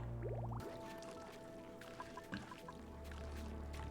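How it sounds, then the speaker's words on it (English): Water flowing through a moon base in a video game, with soft dripping, squishing and liquid trickles over a low hum, faint and continuous. "Now we just need the water to finish flowing."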